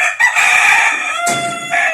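A Red Kelso rooster crows loud and close, one long strained call that breaks midway and trails off.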